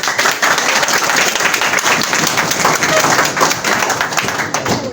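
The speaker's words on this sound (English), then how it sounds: "big applause for this" Loud, dense applause from an audience at a schools English speech competition, continuous clapping with sharp individual hand claps standing out close by for about five seconds.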